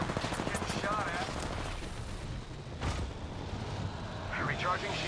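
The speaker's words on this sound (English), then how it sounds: "Getting shot at." Gunfire crackles in a video game battle, dense rapid shots and bursts running steadily throughout under a busy mix of game effects, with a few sharper reports standing out.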